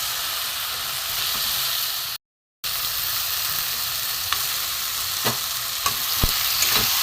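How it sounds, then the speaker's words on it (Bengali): Raw chicken sizzles loudly in hot oil for a papaya chicken dish, a steady close frying hiss with a brief dropout and a few sharp stirring clicks toward the end. "এখানে আমার কাঁচা চিকেন আছে আমি চিকেনগুলো দিয়ে দেবো"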